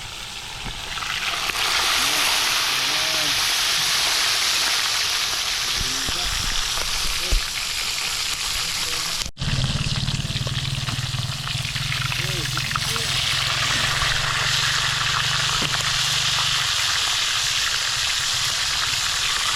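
Tilapia fries in hot oil with a loud, steady sizzle and crackle that runs the whole time. Bursts of spitting and popping come over a low background hum.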